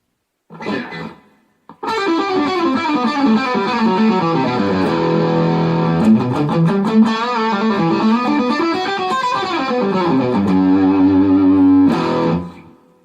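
Heavily distorted electric guitar, loud and close, plays a short stab, then long sustained, gritty chords and bending notes that ring out before cutting off.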